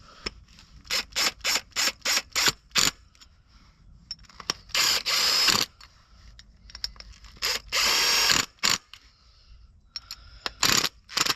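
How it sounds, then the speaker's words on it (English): Ratchet tightening studs on a 2024 Ram 1500 Sport G/T truck, with fast bursts of clicking pawl strokes broken by pauses and a few longer ratcheting runs, close and loud with no talk. "We got our studs all torqued up, 40 foot-pounds"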